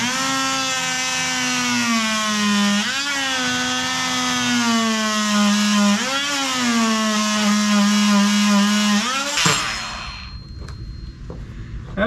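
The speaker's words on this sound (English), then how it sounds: "now we will make the end cut here" Handsaw cutting the end of a scarf joint in boat wood, a loud steady rasping drone for about nine seconds with brief dips at each stroke turn, then stopping abruptly, leaving quieter handling noises.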